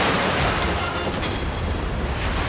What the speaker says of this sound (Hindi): देवी गंगा की जलधारा तो वेदवती नदी में मिलने जा रही है।